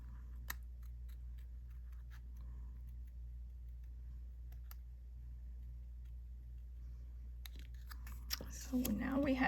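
Scissors trim a red paper popcorn shape for a handmade card, making a string of faint, separate snips over a low background hum, with a voice starting near the end.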